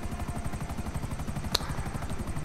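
Steady rapid rotor chop of a helicopter in GTA 5, a close, continuous rhythmic thumping with engine whine, heard without talk.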